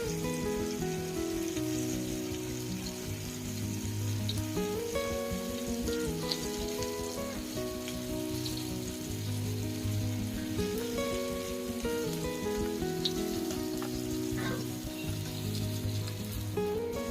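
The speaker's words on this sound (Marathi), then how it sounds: "बघा इथे ना बांगडा फ्राय केलेला आहे" Whole bangda (mackerel) coated in masala, rice flour, semolina and gram flour frying in a pan, giving a steady, continuous sizzle throughout with no speech.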